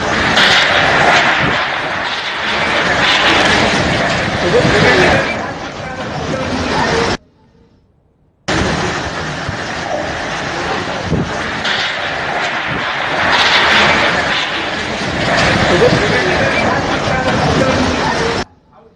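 Strong Cyclone Nisarga winds roar across a Maharashtra street, a loud, continuous rushing blast that fills the air, breaks off for about a second and then keeps going at full force.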